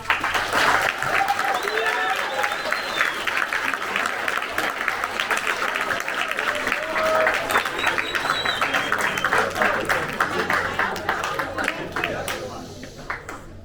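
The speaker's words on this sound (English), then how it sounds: "Please give Mr. Mike a round of applause." A high school audience applauds after a digital business marketing lecture, with steady, sustained clapping that fills the whole stretch and a few voices underneath.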